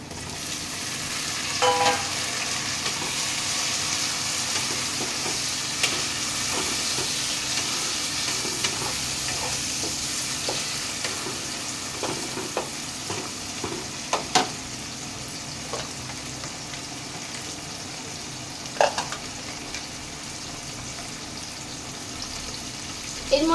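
Onion and tomato fry in mutton fat for khichuri, a steady close sizzle running throughout with scattered scrapes and taps from stirring in the pan.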